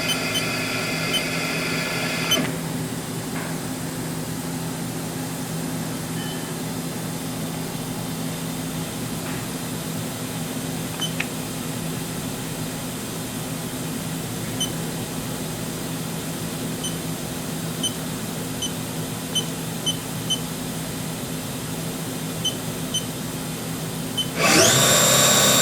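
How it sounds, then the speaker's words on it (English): Haas Super Mini Mill spindle spinning steadily at 8,000 RPM, a constant close mechanical whine and hum holding unchanged through the whole stretch, with a brief rise in noise near the end. "Right now we're just running the spindle here."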